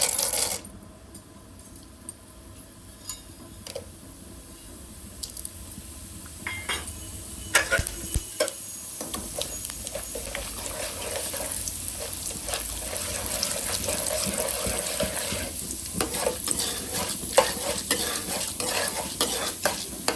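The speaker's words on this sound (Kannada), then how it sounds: "ಎಣ್ಣೆ ಕಾದಿದೀಗ ಸಾಸಿವೆ, ಉದ್ದಿನಬೇಳೆ, ಕಡಲೆಬೇಳೆ ಎಲ್ಲ ಹಾಕ್ತಾ ಇದ್ದೀನಿ ಈಗ" Mustard seeds, urad dal and chana dal sizzling in hot oil for an upma tempering, with a continuous crackling fizz, sharp popping seeds and clinking stirring that grow louder and busier through the clip.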